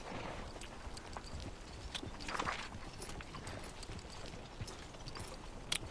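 An Akhal-Teke horse in the video game Reverse: 1999 walks with soft, irregular hoof clip-clops over a quiet background, a few sharper strikes standing out, with no talking.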